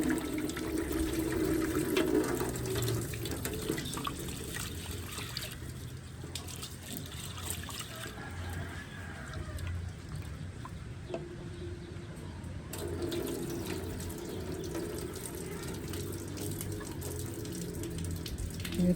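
Tap water runs steadily into a sink while store-bought ingredients for milk kanji are washed, a continuous close splashing stream that changes slightly in tone as the food is moved under it.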